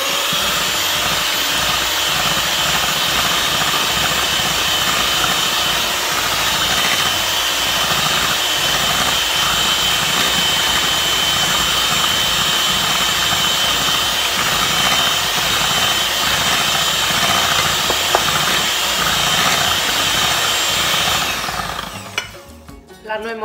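An electric hand mixer whirs steadily as it beats cornbread batter mixed with baking powder and baking soda. The loud, continuous drone runs almost twenty seconds, then cuts off near the end.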